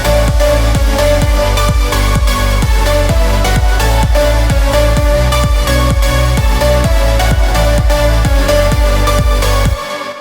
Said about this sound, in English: So it's just going to be like the kick, some white noise downlifters, and the instruments